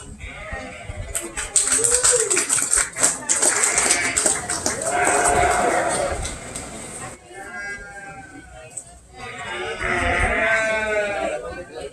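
Sheep at a market lamb show bleat repeatedly, with several loud, wavering cries close by, while an announcer's voice talks over them for most of the stretch.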